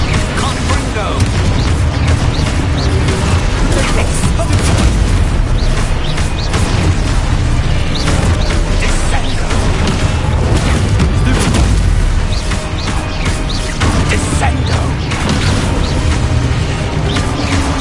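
Confringo blasting spells burst in Hogwarts Legacy gameplay, dense booming explosions and crackling impacts piling up continuously and loudly over a busy game soundscape.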